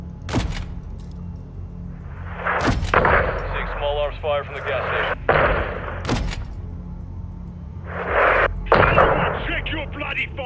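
Heavy artillery blasts and gunfire from the video game Call of Duty Modern Warfare 2, with several sharp loud booms spread across the scene over a continuous rumbling battle bed, while voices shout orders in between.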